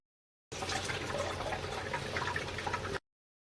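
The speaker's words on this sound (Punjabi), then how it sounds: "ਪੱਡਿਊ ਵਾਲੀ ਬੋਤਲ 'ਚ ਨਾ ਪਾਣੀ ਭਰ ਕੇ ਲੈ ਕੇ ਜਾਂਦੇ" Water pours from a tap into a plastic Dew soft-drink bottle, a steady bubbling gurgle lasting a few seconds, close and alone before stopping abruptly.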